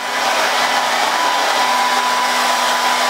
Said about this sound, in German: So, Haare sind geföhnt.